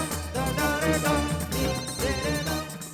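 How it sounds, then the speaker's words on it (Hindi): A melodic electronic phone ringtone plays in a repeating musical phrase, loud and close, with no talking. "घंटी बज रही है सरकार"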